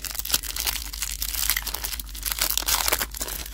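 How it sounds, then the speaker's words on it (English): Crinkly plastic wrapping torn open on a toy package from a basic fun delivery, close loud rustling, crackling and tearing that goes on without a break, with no talking. "let's unwrap this"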